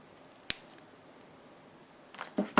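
Cutters snip jewelry wire while a gemstone pendant is being wire-wrapped: one sharp, close click early on, then quiet, then a couple of small metallic clicks and handling noises at the end.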